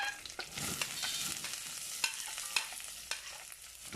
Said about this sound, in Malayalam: എന്നിട്ട് സവാളയുടെ കളറ് മാറുമ്പോഴത്തേന് അതൊരു ട്രാൻസ്ലൂസൻ്റ് ആവുന്നിടം വരെ നമുക്കിത് വഴറ്റണം.